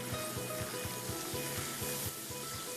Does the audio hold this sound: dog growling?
no